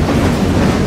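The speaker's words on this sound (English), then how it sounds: "Well, the train, we're on it." A moving Burlington Northern freight train heading south out of Klamath Falls at dusk, heard from on board: a steady, loud rumble with rhythmic clickety-clack of wheels over rail joints, no voices.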